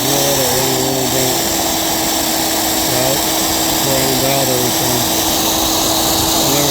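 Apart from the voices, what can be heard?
electric drill running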